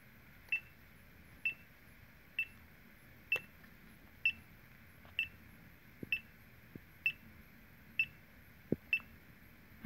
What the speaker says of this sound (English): I don't think it's supposed to be beeping like this